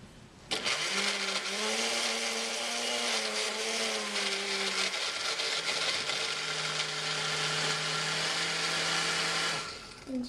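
A blender whirs loudly and steadily through a banana smoothie, its motor pitch dropping partway through as the mix thickens, then cutting off near the end.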